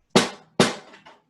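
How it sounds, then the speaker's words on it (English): A snare drum with the snares on is struck twice, then once more softly, each hit a sharp crack followed by a buzzing rattle that decays quickly. "What gives it its unique sound is these snares that rattle."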